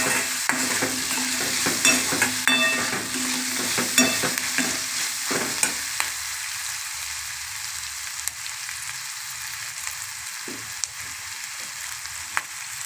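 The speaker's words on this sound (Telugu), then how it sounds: "రొయ్యల్లో చక్కగా వేగాలి." Prawns and onions fry in a pan with turmeric, a close sizzle joined by busy stirring and scraping for the first six seconds, then a quieter hiss with occasional clicks of the utensil.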